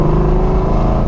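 Cammed, procharged 1999 Mustang GT V8 on a downshift, a loud, steady, rough mechanical drone with choppy idle-like pulses, heard alone and close.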